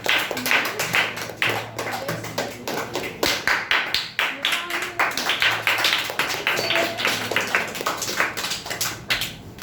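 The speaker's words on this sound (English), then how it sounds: "clap for Yogesh." An audience at a public speaking competition claps for Yogesh, a burst of close, sharp, irregular hand claps that rises and falls over several seconds with a faint voice underneath.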